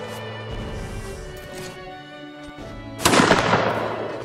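Musket fire in the Napoleonic Wars mod of Mount & Blade Warband: a sharp crackling volley bursts out near the end over a steady tonal game background hum.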